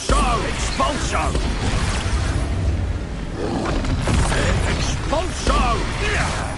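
Expulso blasting spell cast in a wizard video game, repeated loud crashing blasts and pops amid clattering mechanical battle noise, bursts recurring every few seconds.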